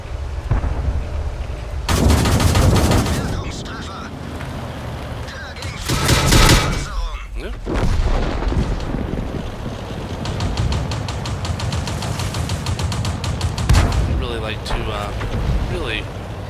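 Heavy tank cannon and artillery blasts in World of Tanks on the Karelia map, several loud booming shots spread through the stretch with rumbling engine noise and a voice talking over it.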